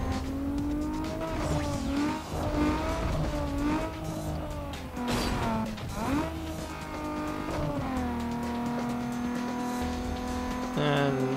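Race car drifting in the video game Need for Speed Underground 2, a front-engine rear-drive car, its engine note loud and steady with pitch sweeps as it revs and slides, tire squeal mixed in throughout.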